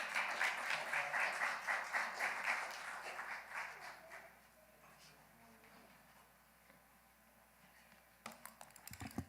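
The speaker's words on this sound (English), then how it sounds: "Clap it up for her, y'all" An audience at a youth community gathering claps to welcome a woman to the front, a dense burst of applause for about four seconds that thins and fades, followed by a few handling knocks.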